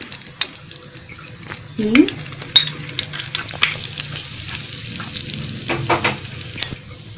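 Dried red chillies, whole garam masala and cumin seeds fry in oil while being stirred, a crackling sizzle with irregular scraping strokes and brief clicks. A short voice sound breaks in partway.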